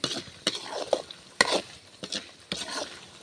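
Fish pickle (meen uppad) stirred and mixed in a pan, a spoon scraping through thick mixture in repeated close strokes with faint sizzling between them, no talking.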